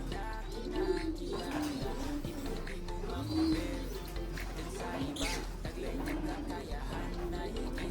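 Pigeons coo softly in repeated low, rolling calls close by, mixed with faint rustling and background noise.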